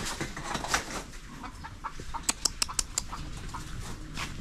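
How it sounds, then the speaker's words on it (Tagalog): Chickens cluck in a noisy barnyard, with a quick run of sharp clucks partway through over steady background chatter and rustle. "Manok, mangingitlog ang buwisit."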